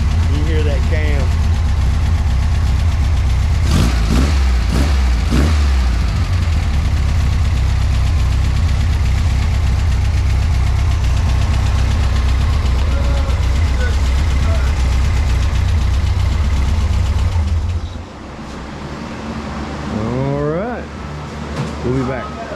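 A modified car engine with a cam idles with a loud, lumpy rumble for about eighteen seconds, then cuts to a quieter background where a voice is briefly heard.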